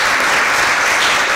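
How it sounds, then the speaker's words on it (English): Loud, dense applause from an audience at a public event honoring a state governor, with continuous clapping filling the whole brief moment. "give our great governor a round of applause one more time"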